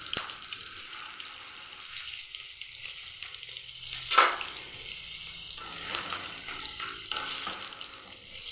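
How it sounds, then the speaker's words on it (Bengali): Pieces of pointed gourd rubbed with salt and turmeric fry in hot oil, giving a steady soft sizzle with a brief louder spit partway through and occasional stirring scrapes, no talking. "এখন লবণ হলুদ মেখে এখন পটলগুলোকে ভেজে নিব।"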